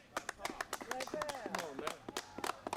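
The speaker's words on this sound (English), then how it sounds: "Give him a round of applause, man." Scattered hand claps from an outdoor gathering at Marvin Gaye Park in Washington, DC, quiet and uneven, with people talking and calling out over the claps.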